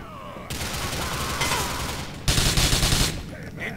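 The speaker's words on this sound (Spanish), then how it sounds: "me están disparando desde acá adentro" Gunfire in GTA IV: a dense burst of rapid shots, like a fusillade or automatic weapon, rings loud and close, growing heavier toward the end before it cuts off.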